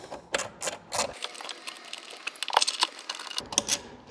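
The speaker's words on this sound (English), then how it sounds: "Go ahead and grab your 8mm socket with a wrench, and let's go ahead and remove that." A ratcheting socket wrench with an 8mm socket backs out a bolt on the air box of a Honda EU2200i generator, giving a close, rapid mechanical clicking that comes in bursts with short pauses.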